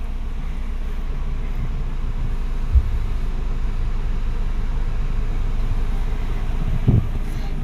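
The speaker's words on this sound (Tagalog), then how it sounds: "Dala ang buhok sa lakas ng buga ng hangin." A strong, cold wind gusts hard enough to blow hair around, making a steady low roar with microphone buffeting and a couple of brief thumps, no voices.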